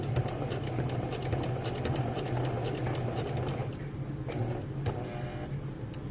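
A sewing machine stitching a seam in fabric runs in a steady, close mechanical whir with a fast rhythmic needle clatter, easing slightly and briefly pausing near the end.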